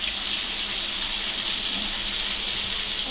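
Tap water runs steadily into a kitchen sink as squid is rinsed, a continuous close gushing splash with no pauses and no voices.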